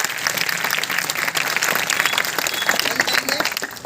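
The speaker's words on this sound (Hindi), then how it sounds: "इसके नाम पे एक बार जोरदार ताली" Loud, sustained applause from an audience at a Class 10 monthly-test prize distribution, dense clapping filling the whole stretch without pause and with no voices over it.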